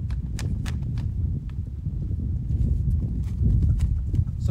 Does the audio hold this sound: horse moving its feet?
yes